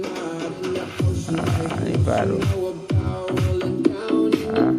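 Bass-heavy music with a steady beat plays through a UE Wonderboom Bluetooth speaker, loud and close, while someone speaks briefly over it.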